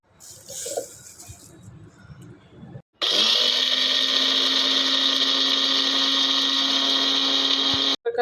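A kitchen mixer grinder whirs at high speed, loud, close and steady, as it grinds coriander seeds, cumin and dried red chillies. It starts abruptly after a few seconds of quieter handling sounds and runs for about five seconds before a brief cut.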